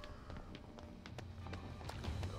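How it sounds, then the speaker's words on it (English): Rapid running footsteps from the video game We Happy Few patter close behind, a quick steady rhythm of light taps at low volume. "I can hear the footsteps right behind us."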